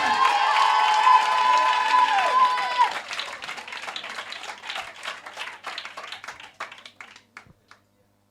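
A church congregation at a prophetic preaching service bursts into clapping and cheering, loud and dense at first. The applause thins into scattered claps and fades out over several seconds.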